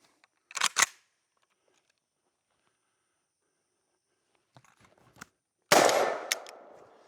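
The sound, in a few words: Vepr 12 short barrel shotgun firing Winchester White Box shells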